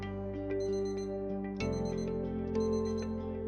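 A wristwatch alarm sounds on a bedside side table, its steady electronic beeping tone running continuously and fairly loudly, with a change in pattern partway through, no voices present.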